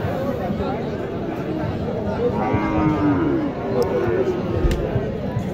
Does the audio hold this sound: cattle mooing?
yes